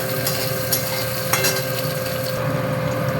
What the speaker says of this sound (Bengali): আলুটা একটু ভেজে নেব।